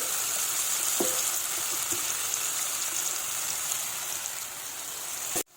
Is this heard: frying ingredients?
yes